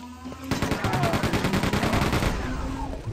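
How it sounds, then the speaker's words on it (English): Rapid chain gun fire in the shooter game Quake 2, a fast regular stream of sharp shots lasting about two and a half seconds, loud and close with no talking over it. "Maybe I'll use the chain gun for a change."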